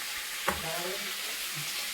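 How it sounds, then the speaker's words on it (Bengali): Fish sizzling in hot oil in a home kitchen gives a steady, close, dense crackling hiss, with one brief sharp clatter near the start. "রান্নাঘরে মাছ ভাজছে"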